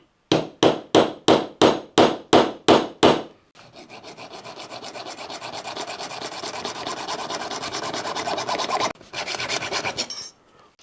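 A hand file working the rim of a hole in stainless steel: eight sharp, evenly spaced rasping strokes, then a longer continuous grinding scrape, a brief pause, and a final burst.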